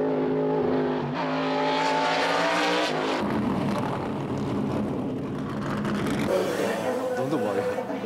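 Engine of a 1996 NASCAR stock car with a new engine, revving hard through the gears on track, a loud, close, rising roar with a shift drop, under in-car talk.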